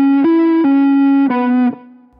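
An electric guitar plays a short riff from a solo: sustained, slightly distorted notes with a few slides, clear and close before fading out, with no voices.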